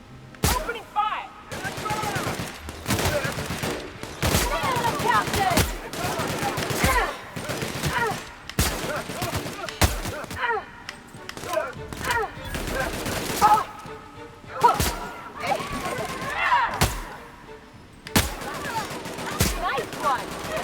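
Gunfire in The Outer Worlds video game, repeated loud bursts and single shots in an irregular rhythm, with a voice talking between some of the volleys.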